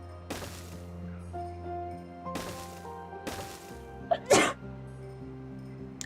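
Several sharp, sudden sneezes burst out one after another at close range, separated by a few seconds, over quiet game music, with a louder, noisier burst near the end.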